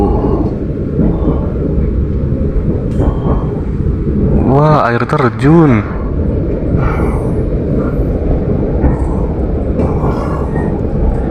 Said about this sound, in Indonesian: kita nikmatin aja perjalanan bersama kereta api Brawijaya